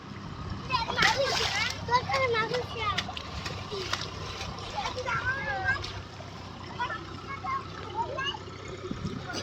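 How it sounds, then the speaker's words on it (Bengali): Children splash and play in water, with steady splashing and trickling throughout while kids talk and shout over it. "ওই জল দিস না কানে যাবে"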